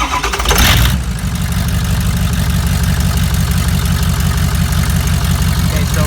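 A car engine fires up and settles into a loud, steady idle with a faint rhythmic unevenness from a weak cylinder, the accessory belt removed; a brief burst of noise at the start.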